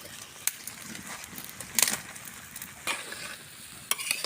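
Taro pieces are stirred with ground chili and turmeric in a pan, with scraping spoon strokes at irregular moments over a soft, low sizzle.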